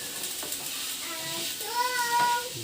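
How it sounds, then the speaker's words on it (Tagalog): Adobong sitaw, string beans in a frying pan, gets stirred over a steady close sizzle, with scraping strokes and a few squeaky tonal rubs of the utensil against the pan. "halo-haloin na po natin"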